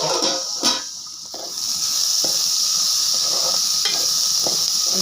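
Kerala-style crab roast masala frying in a pan, a steady close sizzling hiss throughout with a few soft stirring scrapes near the start.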